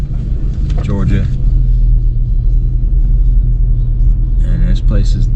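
A car cruises through the mountain town of Helen, Georgia, its engine a low steady rumble heard from inside the cabin, with people talking briefly at the start and near the end.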